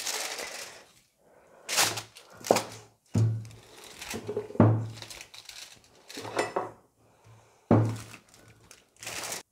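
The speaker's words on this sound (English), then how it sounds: "So I picked up the foil and I just flipped it over onto here" Aluminium foil holding quiche dough crinkles and rustles as it is flipped onto a baking tin, with several close bursts of crumpling and light metallic clanks separated by brief quiet gaps.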